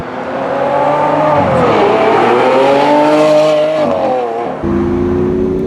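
A Lamborghini Aventador SV engine accelerates hard and loud, its rising wail climbing through several gear changes with a sharp drop and renewed pull near the end.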